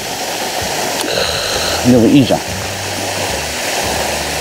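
A waterfall rushes steadily at Toyofusa Dam on a rainy late-autumn day, a continuous broad hiss of falling water with a person speaking briefly over it.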